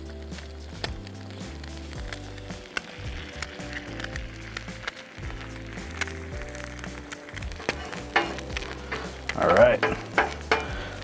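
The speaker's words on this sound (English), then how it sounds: "Got our ham over here, sizzling away." Ham sizzles on a Blackstone griddle with a steady frying hiss, while a spatula scrapes and taps on the flat-top at intervals. A brief spoken remark comes near the start.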